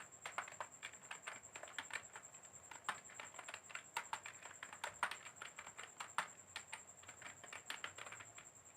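A faulty computer keyboard clicks under quick, steady typing, with dense, close keystrokes and a faint electronic whine in the background.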